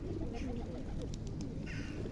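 Low, murmuring coos from pigeons run steadily through the clip, with faint chirps above and a constant outdoor background.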